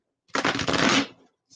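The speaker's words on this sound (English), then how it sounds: "So just a couple more shuffles here for Amut, Capricorn." Tarot cards shuffled by hand in one close, fairly loud riffling burst lasting about a second, then a brief softer rustle; no talking.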